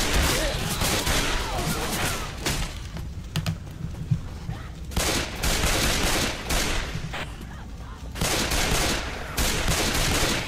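Dense, loud gunfire in the zombie game Left 4 Dead, rapid bursts of automatic and repeated shots running almost continuously, with voices talking over the shooting.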